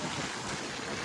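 Strong wind gusts across the microphone at the seashore near Harihareshwar, a steady loud broadband roar with no voices, lasting about a second.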